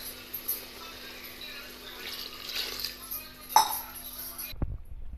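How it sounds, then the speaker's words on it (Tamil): Water is poured into a tomato rice masala in a pressure cooker, a steady splashing pour lasting several seconds with a brief clink partway through, then stopping abruptly. "நம்ம எடுத்து வச்சுருக்க இந்த தண்ணி ஊற்றிக்கலாம்"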